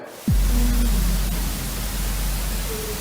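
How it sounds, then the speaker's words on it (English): A fan whirs as a constant broadband rush that starts abruptly and holds steady, loud and close, with a faint tonal hum. "it's that fan again"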